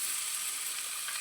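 Washed potatoes and carrots hitting hot ghee over fried tempering spices give a steady, soft, even hiss of sizzling that runs unbroken throughout with no voices.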